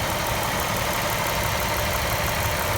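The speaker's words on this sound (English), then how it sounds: "The motor sounds excellent." A 2007 Chrysler 300 Touring with low miles idles with the hood open, giving a steady, even engine hum and broadband whir close by, with no talking.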